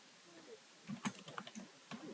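A few soft computer keyboard key taps while entering details into clinic software, faint and close, in a short irregular cluster over low background hiss.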